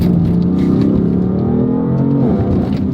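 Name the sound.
BMW M4 car engine revving on track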